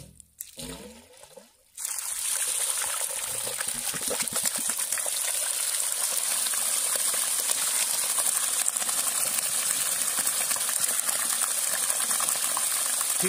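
Water gushes steadily from an Oswal 3 hp solar pump with a 3.9 motor, a loud continuous rushing that starts abruptly after a short quieter moment and holds without letup.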